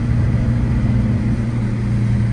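A turbocharged Porsche engine pulls hard with a loud, steady, droning roar heard from inside the car, holding an even level throughout.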